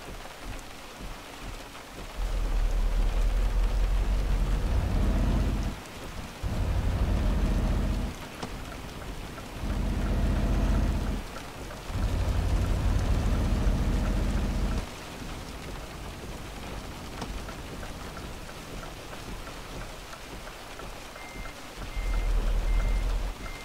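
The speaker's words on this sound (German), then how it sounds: "Wir fahren durch die Nacht im Regen." Steady rain drums on a truck cab while driving at night in the game Euro Truck Simulator 2, a continuous wash of noise that swells louder in several long stretches over a low engine rumble, with no talk.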